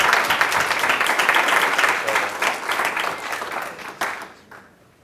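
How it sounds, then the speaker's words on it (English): Audience applause at a Raleigh people's town hall welcomes two speakers to the stage, a dense, steady clapping that holds strong for about four seconds before tapering off and fading out. "Give them a round of applause."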